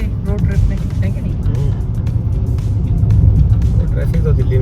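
Road traffic rolls past on a highway during a road trip from Delhi, a continuous loud rumble of cars and engines with passing swells, while people talk over it.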